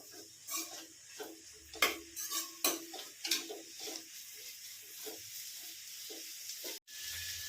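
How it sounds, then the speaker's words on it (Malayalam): Finely chopped beans, onions and green chillies being stirred in a pan for semiya upma: faint, irregular spatula scrapes and light taps over a low sizzle, fairly quiet and close. "അതുകൂടി നന്നായിട്ടൊന്ന് ഇളക്കാം."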